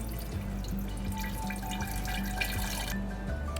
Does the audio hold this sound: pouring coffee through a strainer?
yes